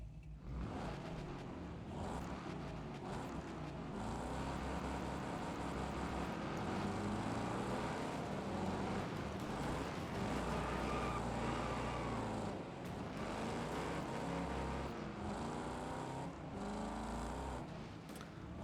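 Raw, unmuffled car engine with no catalytic converter in the racing game Wreckfest 2, roaring loud and continuous with revving swells and gear changes throughout, no voices.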